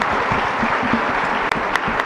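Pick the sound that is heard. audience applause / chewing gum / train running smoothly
audience applause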